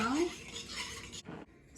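Spoon stirring salted broth in a pot on the stovetop, a steady run of metallic scraping and clinking against the pot for about a second, then a short separate scrape before it quiets.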